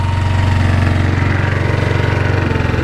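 A 2004 Yamaha Kodiak 450 ATV engine running after a cold start, loud and close with a steady rapid chugging pulse and no talk.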